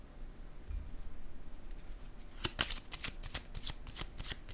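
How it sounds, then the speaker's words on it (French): Cards are dealt and laid down during a French-language card reading, a quick run of crisp, close shuffling and slapping snaps in the second half after a near-silent start. "Je vais déposer une autre carte ici."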